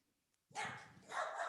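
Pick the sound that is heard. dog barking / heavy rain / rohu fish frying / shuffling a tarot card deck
dog barking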